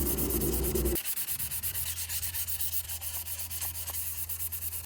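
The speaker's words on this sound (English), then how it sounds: "I'm gonna hit it with the 400 grit, just by hand," Steady rhythmic rubbing of 400 grit sandpaper worked by hand over a plastic car headlight lens, close and continuous, with a brief louder noise at the start and no talking.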